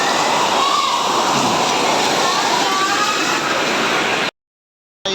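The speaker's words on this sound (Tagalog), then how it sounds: "Anong lakas ng ulan?" Heavy rain driven by strong wind during a dense-cloud storm in Payatas, a dense, steady roar of downpour close by that cuts out abruptly near the end.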